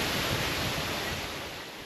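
Tok Tok waterfall on the Everest Base Camp trek, a steady broadband rush of falling water heard close and fairly loud, unbroken and fading slightly toward the end.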